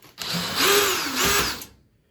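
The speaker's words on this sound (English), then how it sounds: "I'm just going to use the drill because it's easy." A cordless power drill removing screws from an over-the-range microwave mounting plate whirs in two short bursts, spinning up, running briefly, then winding down, close and loud with no talking.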